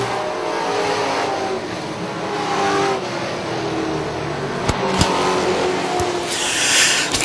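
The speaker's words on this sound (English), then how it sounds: "Huber in the number 84 strong truck had to go to the back of the pack for the spin on the 28 truck of TJ Duke" NASCAR pickup trucks racing at Charlotte, a steady loud engine roar from the pack with revving, a couple of sharp bangs and a rising whoosh as trucks pass close near the end.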